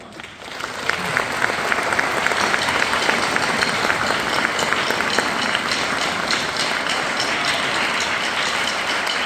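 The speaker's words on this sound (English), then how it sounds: "So can we give those people a quick round of applause?" Applause for middle school staff from a concert audience, a dense, steady wash of many hands clapping that rises quickly and holds loud and even throughout.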